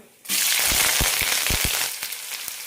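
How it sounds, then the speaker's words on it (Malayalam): Curry leaves and onion hit hot oil with mustard seeds, setting off a sudden loud burst of sizzling that stays strong, with a few sharp crackling pops before easing slightly. "കടുക് പൊട്ടിക്കഴിയാറാവുമ്പോൾ കറിവേപ്പിലയും സവാളയും ഇടാം"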